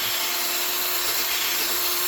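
Continuous hissy wet sanding with fine grit against a 2010 Subaru Forester headlight lens, steady and close, with a faint motor-like hum underneath.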